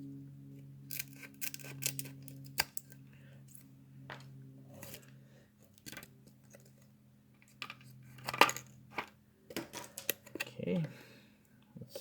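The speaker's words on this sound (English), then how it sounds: "So, cut out some plastic." Scissors cut through plastic in sharp close snips and clicks scattered among handling noises, with a steady low hum and some talking.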